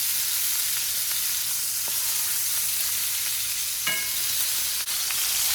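Smashed burger patties sizzling on a hot griddle, a loud steady frying hiss throughout with a couple of brief scraping clicks from a spatula near the end.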